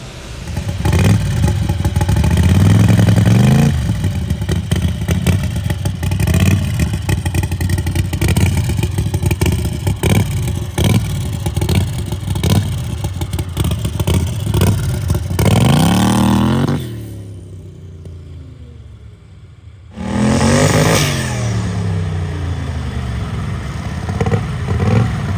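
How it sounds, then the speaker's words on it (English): A turbocharged Predator 670cc engine in a drag rail with Haltech EFI revs hard and loud, holding a steady high-pitched drone as if bouncing off the rev limiter, then drops away briefly before roaring back up. "Might be hitting the rev limiter already."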